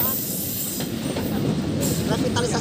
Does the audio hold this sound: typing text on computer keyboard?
no